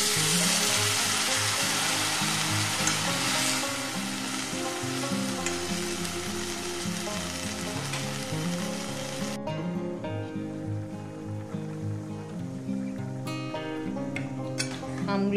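Sizzling mango chutney in a pan with water poured in, a loud steady hiss and bubbling frying sound that drops abruptly to a quieter simmer with faint clinks.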